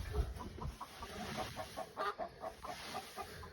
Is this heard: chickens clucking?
yes